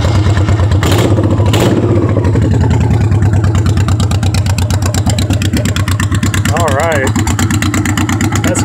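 A Honda Shadow 1100 motorcycle with Cobra drag pipes idles loud and close, its deep, throaty exhaust thumping steadily, with a couple of sharp clacks early on.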